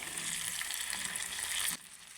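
Soaked dried prawns and onions fry in hot oil with a dense, steady sizzle that runs close and loud, then drops abruptly to a quieter crackle near the end.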